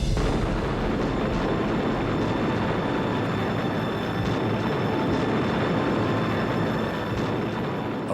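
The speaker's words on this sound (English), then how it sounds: "the British opened fire" Naval artillery fire from British dreadnoughts at sea, heard as a dense, continuous rumbling roar with booming low-end texture and no distinct gaps, loud and unbroken throughout.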